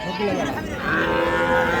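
Calves mooing close by at a cattle market, a low drawn-out call followed by another, with faint background chatter.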